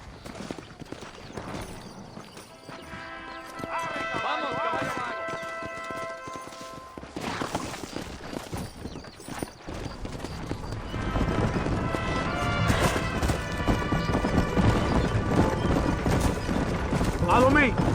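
Horse hooves clip-clop in the Red Dead Redemption video game, a steady rhythmic trot under voices and swelling background music.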